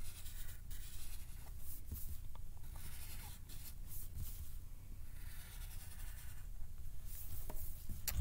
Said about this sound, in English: I'm going to go over it again. A little bit, putting more pressure on the pencil.